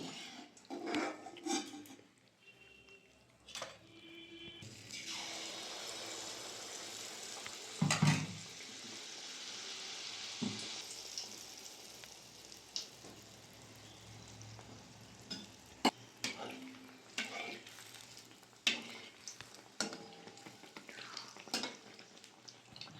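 Jaggery pitha fritters sizzle in hot oil, heard close with a dense frying hiss, then spoon stirs, pan knocks and clinking utensils scattered over the rest.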